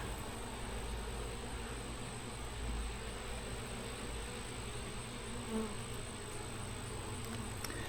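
A strong honeybee colony, originally a caught swarm, buzzes in a dense continuous drone from an open hive as frames are inspected, steady and close with no talking.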